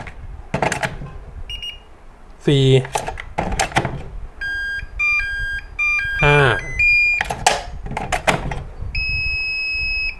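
A mini charger for Makita 18V batteries chirps out short electronic beep melodies, sequences of high tones in changing patterns, while someone talks nearby and handles something with clunks.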